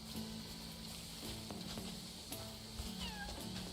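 A black cat meows a few times in the night-time world of the video game Crimson Desert, its short rising and falling cries cutting over a steady hum of game ambience and faint steps.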